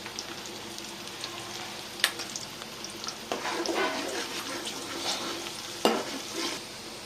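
Onions and asafoetida sauté in a pan, a steady close sizzle for Punjabi tadka Maggi. It swells louder partway through, with occasional sharp clinks and scrapes of stirring.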